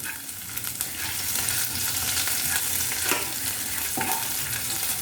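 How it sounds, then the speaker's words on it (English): Close, continuous sizzling of green chilli frying with ginger and garlic in a pan, with occasional spoon scrapes and stirring knocks over the steady crackle. "Then this is non-spicy green chilli, so I'm adding some non-spicy green chilli."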